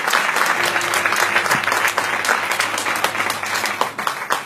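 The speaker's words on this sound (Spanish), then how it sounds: "Denle un fuerte aplauso a su pastora." Church congregation applauding their pastor, loud sustained clapping from many people in a reverberant hall, with a faint low hum beneath and the ovation thinning slightly near the end.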